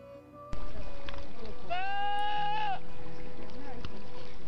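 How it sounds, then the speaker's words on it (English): A goat lets out one long, quavering bleat that wavers in pitch. It is loud and close, over steady background noise. "We must be afraid of these new goats."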